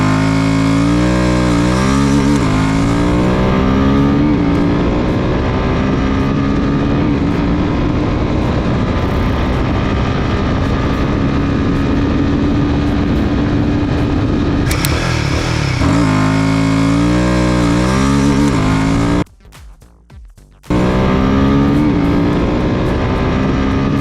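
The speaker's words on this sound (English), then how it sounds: "First, the 0 to 120 acceleration of both the bikes. Let's start with the bigger Himalayan 450." A Royal Enfield Himalayan 450 motorcycle engine accelerating hard from standstill to 120, loud and close, revving up through successive gear shifts with rising pitch and a brief cut near the end.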